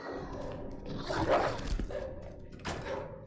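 Dogs attacking in the video game Resident Evil 2, with snarling, growling and yelping at moderate distance under low game ambience, rising in a burst midway.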